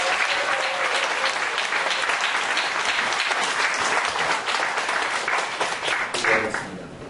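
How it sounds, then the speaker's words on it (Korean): A church congregation at a Friday youth prayer meeting claps continuously in dense, sustained applause to welcome the pastor, loud and close throughout before fading slightly at the end. "박수로 목사님을 환영하겠습니다"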